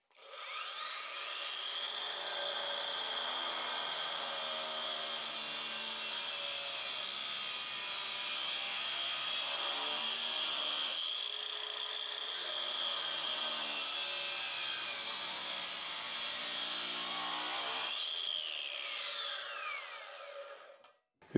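Parkside 40V cordless angle grinder (PWSAP 40-Li Performance) cutting 2 mm steel, a loud, shrill, continuous whine with a brief dip midway, then spinning down at the end.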